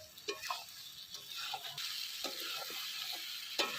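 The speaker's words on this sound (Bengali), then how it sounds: "সবজিটা কষানো কষানো হয়ে গেছে আর একটু কষাবো তারপর জল দেবো ঢেলে আর একটু ভালো করে কষিয়ে নিই" Vegetables sautéing in a pan give a steady close sizzle, broken by scraping clatters of a utensil stirring them in uneven strokes, with no voices.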